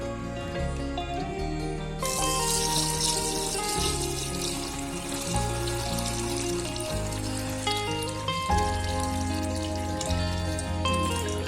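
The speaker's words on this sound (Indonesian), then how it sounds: "Kita tambahkan air." Water poured onto SP-36/TSP fertilizer to dissolve it, a steady splashing pour heard close, with a brighter rush partway through over a persistent background of tonal music.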